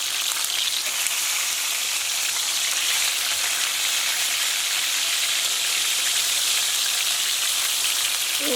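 Farmhouse fried chicken pieces frying in a pan just after being flipped, giving a loud, steady, close-up sizzle that runs unbroken throughout with no voices.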